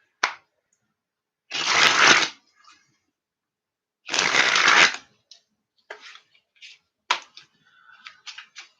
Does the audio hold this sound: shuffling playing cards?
yes